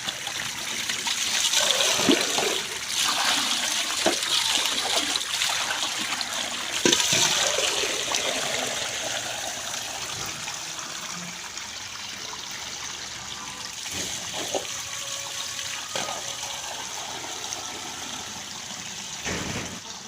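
Water runs steadily while containers are filled, a continuous trickling and splashing flow at moderate level with a few louder splashes and no talking.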